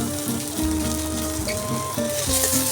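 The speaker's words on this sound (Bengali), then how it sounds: "টমেটোটা দিয়ে দিলাম।" Tomatoes fry in a little oil in a pan for lentil dal, giving a loud, steady sizzle close by with no voices.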